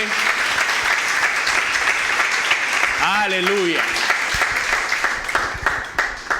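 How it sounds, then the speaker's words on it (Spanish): A church congregation claps steadily through a Spanish-language sermon, sustained applause filling the room while a voice calls out briefly in the middle. "¿Cuántos pueden aplaudir al Rey por su bondad y por su fidelidad?"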